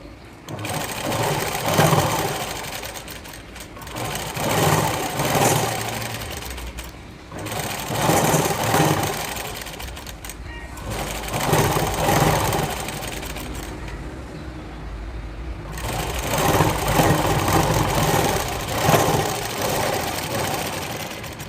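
An electric sewing machine stitches a blouse sleeve up close, running in loud steady whirring bursts of a few seconds each, separated by short pauses, with faint speech in the gaps.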